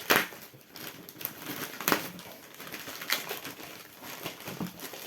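A plastic bag around a parcel box is crumpled during unpacking, giving a continuous, fairly quiet crinkling and rustling with small sharper crackles.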